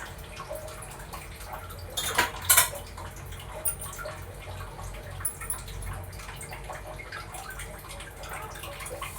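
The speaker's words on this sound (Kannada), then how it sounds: "ಕಡುಬು ಬೇಯಿಸೋಕ್ಕೆ ತಟ್ಟೆ ಇಟ್ಕೊಂಡಿದ್ದೀನಿ" A metal plate set into an idli cooker for steaming kadubu gives a couple of sharp, close metallic clanks midway, over a faint, steady background of running and dripping water.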